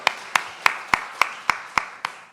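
A church congregation claps in unison, eight sharp, evenly spaced claps in a quick steady rhythm, then stops.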